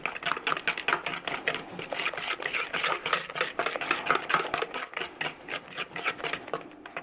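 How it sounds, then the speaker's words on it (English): Rapid rhythmic tapping and scraping of a spoon stirring honey into thick cornbread batter in a mixing bowl, close and fairly quiet, with a steady clatter that continues the whole time and no voices. "a couple tablespoons of honey works out pretty well. Stir that in"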